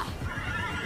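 A horse in the video game Immortals Fenyx Rising lets out a clear whinny under a faint background of game ambience, alone and fairly close.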